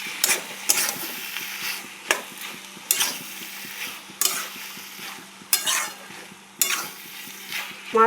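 Pui greens stir-fry in a kadai with a broken fish head, a loud scraping and tossing of the spatula repeating every second or so over a soft continuous sizzle, close up and with no talk.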